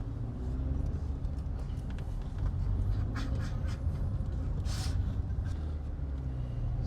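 Honda Civic ED3 saloon driving on a closed test track, heard from inside as a steady low engine and road rumble with faint higher hiss and a brief airy swell near the end, no talk.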